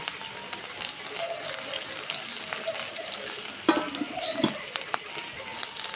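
Green chilies, dried red chilies, cumin and chopped onion fry in oil, crackling and spitting close up in an uneven patter, with a few louder stirring scrapes and clatters near the end.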